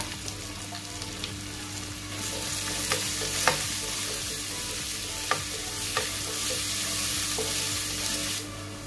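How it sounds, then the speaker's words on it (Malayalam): About 200 g of small shallots fry in oil toward golden for a coconut-milk mackerel curry, with a continuous near sizzle and a few sharp spatula knocks and stirs. "ഒരു ഗോൾഡൻ കളറാവുന്ന വരെ നമുക്കത് മൂപ്പിച്ചെടുക്കാവുന്നതാണ്."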